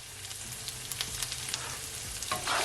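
Shredded cabbage frying in a pan with Creole seasoning and black pepper, a close, steady sizzle with crackling pops and a brief stirring scrape near the end, without speech.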